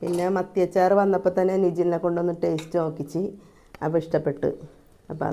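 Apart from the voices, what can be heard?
No everyday noise stands out behind the speech.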